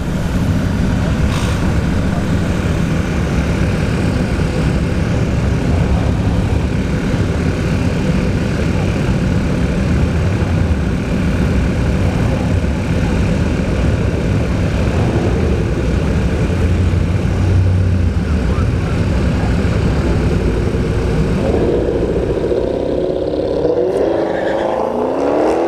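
Dodge Hellcat in the left lane making a drag strip pass at ShowTime Dragstrip test and tune, a loud continuous engine roar filling the whole stretch, rising into a harsher burst near the end, with faint talk underneath.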